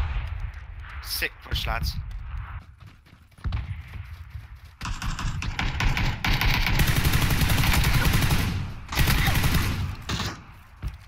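Gunfire bursts from a PUBG match, dense rapid volleys swelling loud over several seconds with a few sharp isolated shots, while players talk over the shooting.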